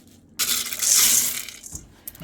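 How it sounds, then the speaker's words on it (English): Cold tap water runs over dried beans being rinsed in a kitchen sink, a close, steady splashing rush lasting just over a second before dropping to a faint trickle and a few small knocks. "So I looked my beans and rinsed them with some cold water."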